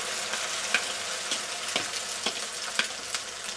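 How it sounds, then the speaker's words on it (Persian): A kuku egg mixture sizzles and crackles in hot oil in a frying pan, a constant loud hiss with a few sharper pops spread across the clip. "اینکه روغن داغ شد مواد رو میریزیم داخل روغن"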